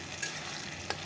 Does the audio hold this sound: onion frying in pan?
yes